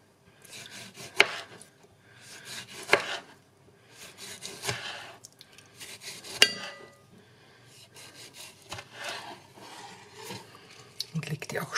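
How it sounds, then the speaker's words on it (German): Tomatoes are sliced with a knife on a board in a kitchen, giving soft rubbing cuts with a few sharper taps of the blade, quiet and close, while a person talks in between. "Kommt meine Paradeiser, die schneide ich erst einmal"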